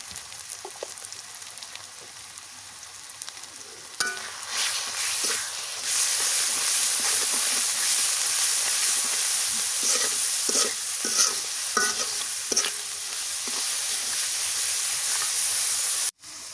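Spice masala sautés in hot oil for a gourd-leaf and tengra fish curry, with a continuous sizzle and hiss broken by repeated scraping stirs of a spatula in the pan.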